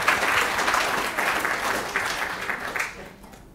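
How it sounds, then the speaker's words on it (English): An audience at a presentation-skills session gives a round of applause, a dense, continuous wash of many hands clapping at moderate loudness that fades toward the end. "Let's give a round of applause"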